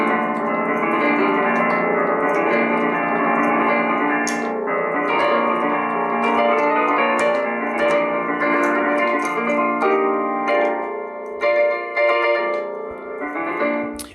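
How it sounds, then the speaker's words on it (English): A DUO spliceable portable piano plays sustained chords and notes through its small built-in speakers, steady and fairly loud throughout, with no voices. "It's actually hard to hear all of the tones coming out because of the quality of the speakers"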